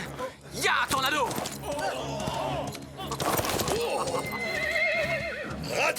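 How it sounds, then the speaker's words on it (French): Cartoon horses neigh and whinny loudly with galloping hoofbeats in a Zorro animated adventure, over a busy music and effects score, with voices speaking between the calls. "Rattrapez les chevaux!"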